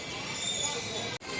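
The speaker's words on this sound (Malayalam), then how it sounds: "നമ്മുടെ ഓക്ക എറണാകുളം എക്സ്പ്രസ് കാനങ്ങാട് സ്റ്റേഷനിൽ നിന്ന് ഇപ്പോൾ വിട്ടുകൊണ്ടിരിക്കുന്നതാണ്." Okha Ernakulam Express hauled by a WAP-7 electric locomotive, pulling out of Kanhangad station: a steady, close rumble of the moving train with a brief dropout near the end.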